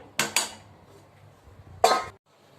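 A metal lid is placed on a pot while nachni (finger millet) papad is being made in a home kitchen, giving two quick clanks and then one more clatter, close and clear in a quiet room.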